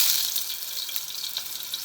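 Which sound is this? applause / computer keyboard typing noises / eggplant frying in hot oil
eggplant frying in hot oil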